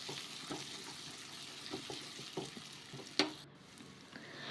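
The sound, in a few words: frying ginger garlic paste in tempering oil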